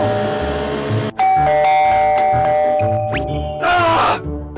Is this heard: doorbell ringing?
yes